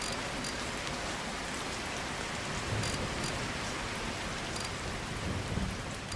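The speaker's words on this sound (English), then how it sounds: "Oh, the rain stopped." Steady rain falls outdoors near a dirt bike under repair, a broad continuous hiss of drops on surfaces with a couple of slightly louder swells, no voices.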